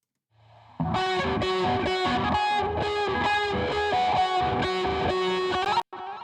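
Distorted electric guitar with delay and reverb, playing loud sustained chords in a steady rhythm that ring out with echoing tails, with a brief cutoff near the end and no voices.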